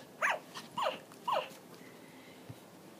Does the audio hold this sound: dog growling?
yes